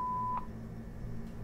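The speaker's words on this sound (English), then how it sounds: "Please leave a message after the tone." Voicemail tone after a greeting message: a single steady electronic beep lasting about a third of a second, then quiet line hiss and low hum.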